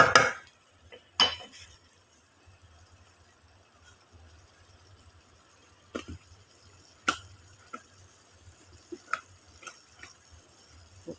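Spoon clinking against a glass while stirring halo-halo, a few sharp isolated chinks spread over quiet stretches, close by and fairly soft.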